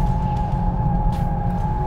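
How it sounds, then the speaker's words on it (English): Mercedes A45S drifting on track, tyres squealing in a sustained whine over a loud, steady engine drone. "Okay, one more drift."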